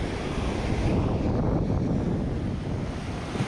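Ocean surf washing onto a black sand beach, a steady continuous roar of breaking waves with heavy wind buffeting the microphone, no voices.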